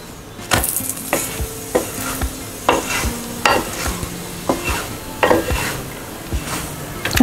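An onion and cheese paratha is roasted on a hot pan over a gas flame, with a soft sizzle under repeated sharp scraping and tapping of a spatula against the pan, close and fairly loud.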